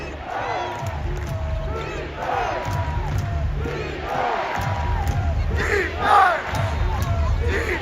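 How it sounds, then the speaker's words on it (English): Arena crowd at a Clippers vs Mavericks basketball game roars and whoops in sustained waves, loud and close, with shouted voices rising and falling and a sharper burst near the end. "All right, let's hear this crowd."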